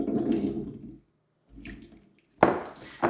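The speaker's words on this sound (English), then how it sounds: "we're going to add our 3 cups of chicken stock" Chicken stock poured into a pot for potato cheddar chowder, a liquid splashing and gurgling in bursts: a pour, a pause, a softer pour, then a sharper splash near the end, with no talking.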